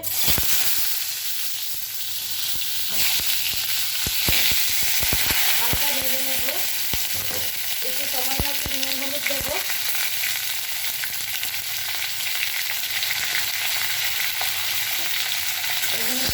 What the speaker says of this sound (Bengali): পটলগুলো একটু ভেজে নিচ্ছি তেলে